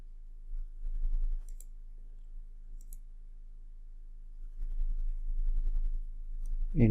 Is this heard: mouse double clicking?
yes